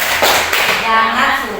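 A school class claps a rhythmic anti-bullying clap chant indoors, with loud sharp claps near the start, then children's voices chanting over it.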